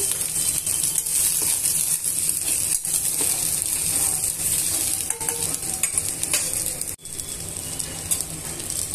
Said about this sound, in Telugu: అల్లం ముక్కలను యాడ్ చేసుకున్న తర్వాత ఇవన్నీ కూడా వేయించేసుకొని